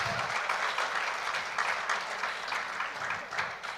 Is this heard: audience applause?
yes